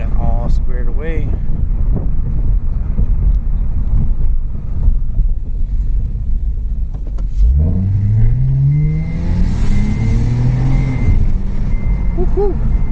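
A rebuilt Acura 3G TL Type S with a J37 engine drives along and then revs hard, its engine note climbing steeply as it accelerates, with wind noise throughout and a person talking.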